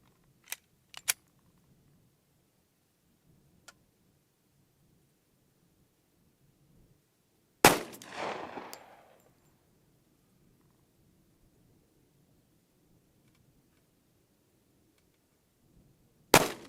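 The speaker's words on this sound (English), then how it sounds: "We're going to fire it out of my Glock Model 23." A Glock Model 23 pistol chambered in .40 S&W fires 155-grain Federal Hi-Shok rounds at an outdoor range, giving one loud sharp report with a ringing decay in the middle and another at the end. Faint clicks and handling noises come before each shot.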